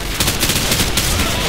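Gunfire in Call of Duty: a burst of rapid gunshots, loud and close, overlapping in quick succession.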